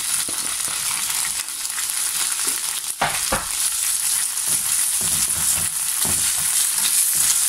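Ham and bacon sizzle loudly in an oiled pan as a steady, dense frying hiss, with a few brief scraping stirs breaking through partway.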